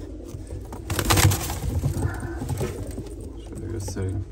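Soft pigeon coos murmur low amid a busy aviary on a pigeon-breeding farm in Turkey, with people talking over the birds throughout.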